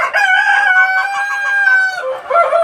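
A rooster crows loudly and close in a Sonali breeder chicken shed, one long drawn-out call with a rising tail at the end, heard alone.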